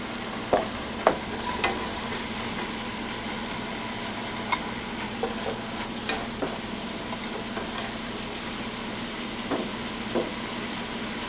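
Zucchini frying in a pan gives a steady, close sizzle throughout, with occasional sharp pops and light clicks of a utensil.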